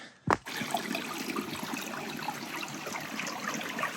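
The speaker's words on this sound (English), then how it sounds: "This is a mountain brook that flows into Mud Pond, crosses the trail" A mountain brook flows across a hiking trail near Mud Pond on Tunk Mountain, Maine, with a steady broadband rush of water running continuously after a brief knock at the start.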